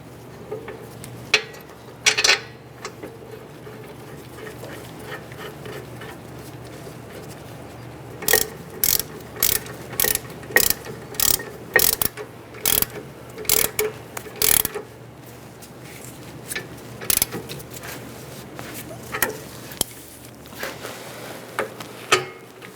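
Ratchet tightening brake caliper bracket bolts on a Buick Enclave during rear brake work, with thread lock on the bolts: a few early clicks, then a dense run of sharp ratcheting strokes midway, and sparse later clicks.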